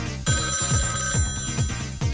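Telephone ringing on a radio call-in show, a repeating electronic ring in regular bursts roughly every half second, steady and fairly loud with no talk over it.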